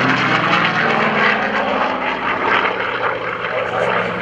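An F4U Corsair propeller airplane roars past close by, a loud, steady engine drone with a faint whistling edge that holds throughout.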